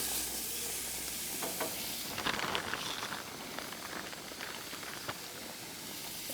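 Skirt steak pieces sizzling on a grill for fajitas or carne asada, a steady close hiss and crackle with scattered sharp pops, no talking.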